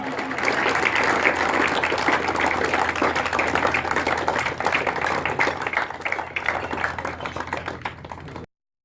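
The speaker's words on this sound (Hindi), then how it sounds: "इनके लिए एक मर्तबा फिर जोरदार अंदाज में तालियां।" A crowd claps for winners at a college sports gala, sustained dense applause from many hands that carries on steadily for several seconds before cutting off abruptly.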